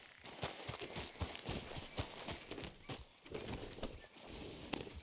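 Horse hooves clip-clopping in a video game, a steady close rhythm of hoofbeats over ambient game sound, with a brief whinny-like tone and no talking.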